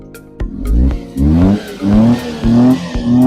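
A Suzuki DD51T Scrum 4WD pickup truck's engine revs repeatedly through its exhaust, four or five rising throaty bursts close by, each dropping back to idle between.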